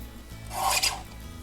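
A card panel being trimmed on a paper trimmer, giving one short raspy cutting stroke that rises and fades within about a second, close and fairly quiet.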